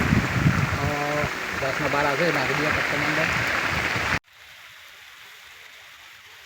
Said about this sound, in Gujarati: સરસ વરસાદ આવી ગયો છે